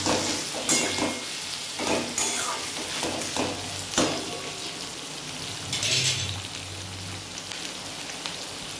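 Chopped tomatoes frying in hot spiced oil with browned onions for Kolkata-style chicken kosha, a loud crackling sizzle with irregular stirring clatters and a brief burst of hissing midway.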